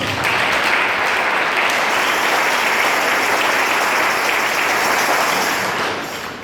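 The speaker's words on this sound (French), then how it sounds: "Acclamons Jésus-Christ." A congregation at a church service applauding and acclaiming Jesus Christ, a loud, dense and sustained wash of clapping that carries on steadily throughout before easing slightly at the very end.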